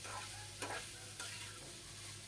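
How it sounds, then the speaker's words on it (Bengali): A vegetable bhaji stirred in a pan after the lid is lifted, a low continuous sizzle with two or three brief scraping strokes, close and quiet, no talking. "তো ঢাকনাটা উঠিয়ে কিন্তু আমি আবারও নেড়ে চেড়ে দিচ্ছি 2-3 বার"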